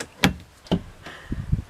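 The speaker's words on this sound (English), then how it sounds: "We do have a drawer for clothes storage" A clothes storage drawer in a brand new ultra lite travel trailer is opened, giving two sharp knocks followed by a soft sliding rattle and a couple of low thumps, all close by and with no talking.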